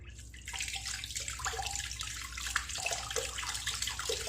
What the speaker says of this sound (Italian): fatemi mettere un pochino più di acqua nel lavandino